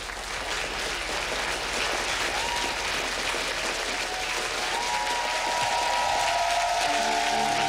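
A congregation at a French-language church service applauds with sustained, dense clapping and some cheering, loud and continuous throughout, while a tone rises near the end.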